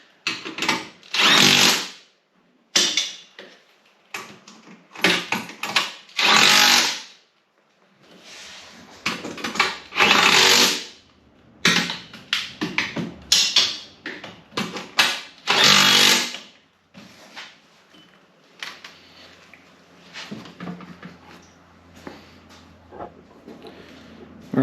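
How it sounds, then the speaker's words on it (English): Impact driver cinching down the bolts of a RZR seat pan on a Honda Odyssey FL350, heard as repeated loud, close bursts of hammering whir separated by short pauses, with quieter fiddling noises toward the end. "I'm just going to take the impact driver and just cinch her down"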